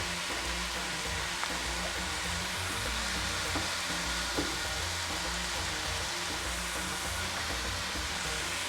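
Chicken pieces and ground garlic paste fry in a pan with a steady, close sizzle, broken by a few soft clicks of stirring and scraping, with no one speaking.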